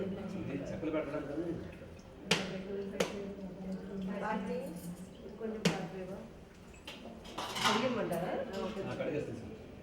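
Pots and dishes being washed by hand, with sharp metallic clinks and knocks of vessels over running water and scrubbing, while a person talks throughout.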